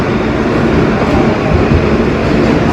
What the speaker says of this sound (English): I realized I'm on the wrong F train.